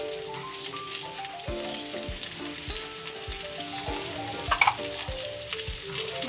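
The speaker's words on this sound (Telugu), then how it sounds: "ఇప్పుడు ఉల్లిపాయ, పచ్చిమిరపకాయలు వేసుకుందాం" Onions and green chillies frying in hot oil after the tempering seeds, a steady close sizzle with light stirring scrapes and clicks, with no talk over it.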